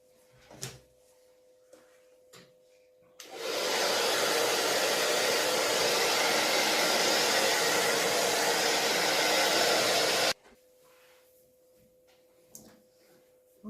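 A hair dryer blows steadily for about seven seconds to dry a watercolor winter scene, switching on abruptly and cutting off sharply, with quiet handling noises before and after.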